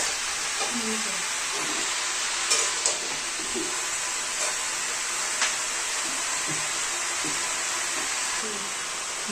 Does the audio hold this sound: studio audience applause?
no